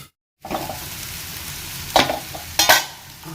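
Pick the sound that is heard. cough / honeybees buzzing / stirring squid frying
stirring squid frying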